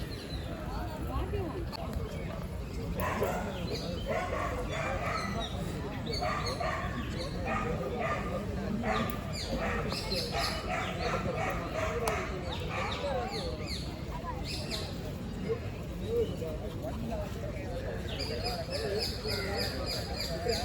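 A dog in Cubbon Park, Bangalore, barks, yips and whimpers repeatedly in short bursts throughout, mixed in with people talking and general outdoor park noise.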